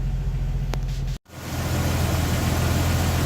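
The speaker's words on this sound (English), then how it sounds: "Fired right up, idling super smoothly." Jeep Wrangler TJ engine with 12-hole fuel injectors idles smoothly, a steady low rumble with a brief cutout around the one-second mark before the even idle resumes, close and continuous.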